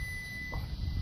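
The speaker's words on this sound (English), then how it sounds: "I have my meter set on just the dummy beep for continuity" A thin, steady electronic beep from a multimeter on continuity sounds for under half a second, faint against a low background rumble, then cuts off; at an HVAC condenser.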